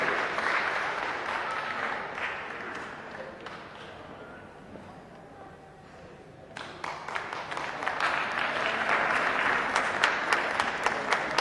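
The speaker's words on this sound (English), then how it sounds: "Give a round of applause for Action Guinea members." Audience applause for Action Guinea members at the Promoguinee One People event, clapping loud at first, thinning to a quieter patch midway, then swelling again into dense sustained applause.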